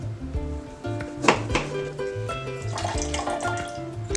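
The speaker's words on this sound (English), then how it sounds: "I am going to add just about 3/4 of an ounce of pineapple juice, half an ounce of agave nectar, the juice of 1 lime," Pineapple juice, agave nectar and lime juice poured for a mezcal cocktail at a pop-up bar, with close trickling liquid and light clinks of glass and bar tools.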